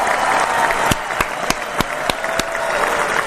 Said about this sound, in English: nice round of applause for War Eagle